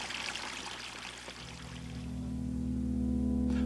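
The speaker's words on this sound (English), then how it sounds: "When the plug is first pulled, water near the center of the bowl, where the internal motion is least, flows directly down" Water drains from a bowl after the plug is pulled, starting as a splashy pour and settling into a steady, deepening gurgling swirl that grows a little louder toward the end.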